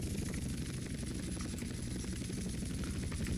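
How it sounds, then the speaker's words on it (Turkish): A helicopter in the video game GTA San Andreas gives a steady, close rotor drone with a constant low whirr and a thin high whine, running unbroken throughout with no talk over it. "Arkadaşlar bu helikopter çok tuhaf."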